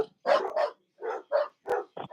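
Several dogs bark excitedly in short bursts after a doorbell, loud and close, five or six barks with brief gaps between them.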